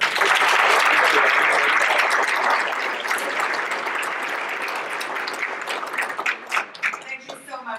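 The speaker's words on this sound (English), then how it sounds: "Ladies and gentlemen, a round of applause." Strong applause from a forum audience, loud and sustained at first and then thinning into scattered claps as a voice begins speaking over the tail.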